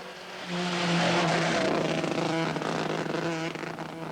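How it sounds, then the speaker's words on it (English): A misfiring Opel Manta rally car on the Epynt stage of the 1982 Welsh Rally, its engine a loud, close, continuous rough drone with steady humming tones and gritty broadband noise, with no voices. "A misfire here on Epynt spells doom."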